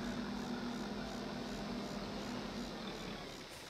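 A steady low tractor engine drone in the video game Farming Simulator 22, with a constant hum, idling evenly and loud throughout with no talking.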